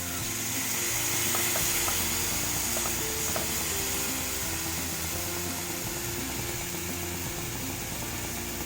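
Paneer tikka cooks on a griller and is turned by hand, giving a constant broad sizzle and hiss with faint clicks and taps running through it.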